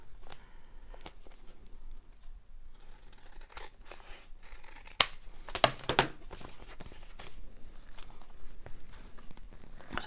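Scissors snip through many stacked layers of paper in scattered bursts of crisp cutting and rustling, close and fairly quiet, with a few sharper cuts midway.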